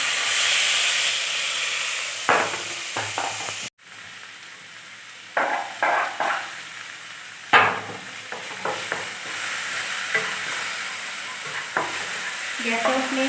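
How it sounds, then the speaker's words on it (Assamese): Tomatoes frying and sizzling in a pan, a steady loud hiss broken by repeated scraping stirs of a utensil against the pan. "আৰু এতিয়া মই ইয়াত এইখিনি বিলাহীখিনি ঢালি দিম"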